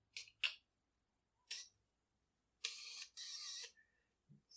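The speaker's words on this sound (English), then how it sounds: "the autofocus motor is really loud on these screw drive lenses" The autofocus motor of a Canon EOS 600 film SLR drives a screw-drive lens in about five whirring, high-pitched bursts: two quick ones, a short one, then two longer runs, close by in a quiet room.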